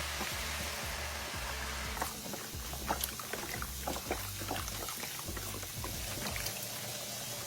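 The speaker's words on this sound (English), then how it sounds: "Now we're going to add about 48 ounces of beef broth or beef stock." About 48 ounces of beef broth poured into a soup pot, a steady liquid gurgle with uneven splashes and sloshing throughout, fairly close and quiet.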